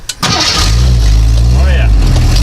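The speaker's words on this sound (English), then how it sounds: "We'll do a little cold start action." A 1980 Jeep Cherokee Chief plow truck cold-starting: a brief cranking burst, then the engine catches and settles into a loud, steady low rumble close by, with a voice briefly heard over it.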